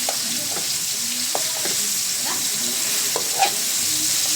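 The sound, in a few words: crushing tomatoes while cooking sinigang sa miso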